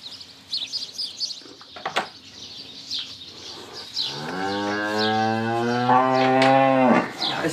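Cows moo inside a farm cowshed, one long drawn-out close moo dominating the second half after scattered clanks and small bird chirps, with no speech.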